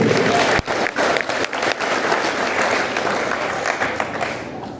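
A congregation at a sermon applauds together in a thick, steady round of clapping that fades gradually near the end, with a sharp knock early on.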